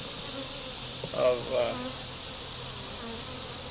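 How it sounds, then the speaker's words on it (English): Honeybees from an opened hive being inspected after a split buzz in a steady, fairly faint drone, with a brief louder swell as a bee passes close, over a hissy background. "my bees are pretty gentle. They're flying around a little bit"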